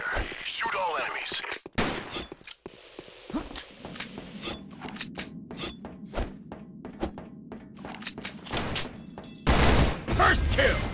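Gunfire in the first-person shooter Sudden Attack: sharp, loud shots crack out in irregular bursts and single rounds, with thuds and mechanical clicks between them and a heavy blast near the end.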